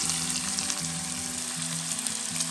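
Chilies fried in a pan for a stewed sauce: a steady, loud, close hiss of sizzling oil that never lets up, with a faint low hum underneath and no talking.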